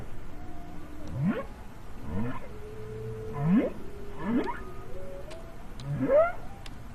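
Humpback-style whale song: a series of about five rising, swooping moans spaced a second or so apart, each with a higher upsweep, clear and resonant against a faint underwater hiss.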